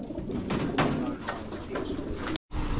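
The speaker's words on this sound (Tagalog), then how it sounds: "Ganda ng mga ibon nyo," Racing pigeons basketed for a 280 km race coo softly in repeated low throaty bursts, close by and fairly quiet, with faint background voices and a brief cut near the end.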